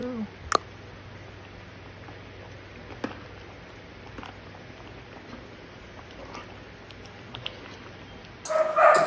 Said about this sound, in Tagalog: Ingay ng aso, kumakawal na naman sila.